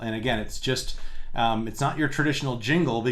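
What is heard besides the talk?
No everyday noises stand out.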